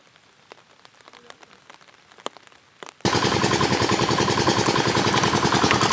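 Heavy rain in a storm, starting with scattered drips and faint patter, then abruptly becoming a loud, dense, steady downpour that continues without a break.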